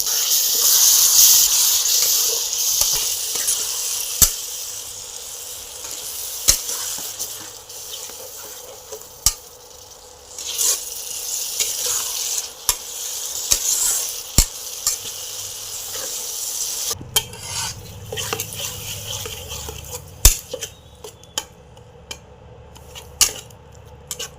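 Tomato paste frying in a pan for a home-style Bengali potol dish, continuous hissing sizzle punctuated by sharp spoon-on-pan scrapes and clicks, the sizzle thinning and crackling more sparsely toward the end, close and unvoiced.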